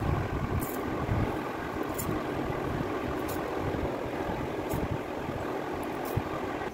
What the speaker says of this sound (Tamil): இப்போ இது ஒரு மிக்சி ஜாரில் போட்டுட்டு நம்ம அரைச்சிடலாம்.